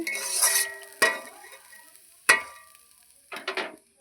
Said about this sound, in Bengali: রসুন দিয়ে চিচিঙা ভাজা হচ্ছে